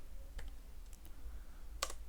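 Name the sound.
typing a command on a computer keyboard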